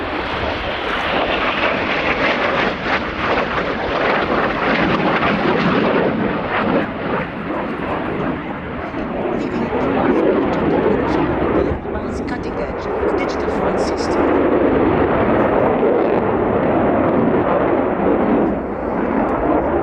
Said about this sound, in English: the Typhoon returns to the center of the display line